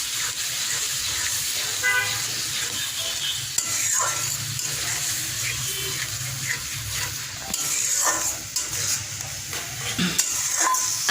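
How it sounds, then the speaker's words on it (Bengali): Masala and two eggs being stirred in a frying pan for a gourd and egg dish, a continuous soft sizzle with scraping and clinking of the spatula, close and moderately loud. "মশলাটা কষানোর পর এখানে আমি আস্তে আস্তে ডিম দিব আর মশলাটাকে কতক্ষণ আগে আমি লাড়াচাড়া করে নিব।"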